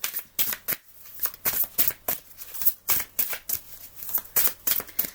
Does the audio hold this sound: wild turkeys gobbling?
no